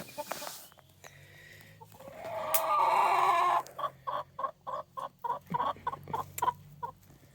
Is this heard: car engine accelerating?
no